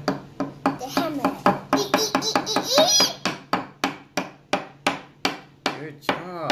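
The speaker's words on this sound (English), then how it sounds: "Okay, keep hammering." Small hammer tapping at a fossil dig kit block, a steady series of about twenty sharp, close knocks with a voice and brief talk mixed in.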